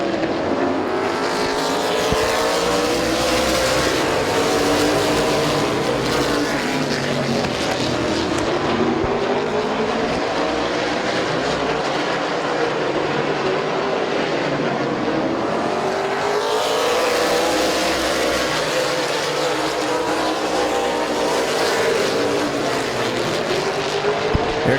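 Race cars roar around the oval at Midvale Speedway in a steady, loud pack, engine pitches rising and falling in waves as the field laps past, with no talking.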